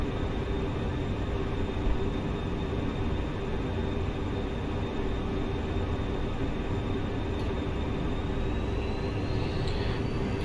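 A Class 43 HST with Valenta engines runs at speed in Train Simulator Classic, heading toward Peterborough, as a loud, continuous drone of engine and rolling noise with a steady whine held throughout, no talking.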